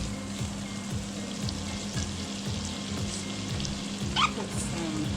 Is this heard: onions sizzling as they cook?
yes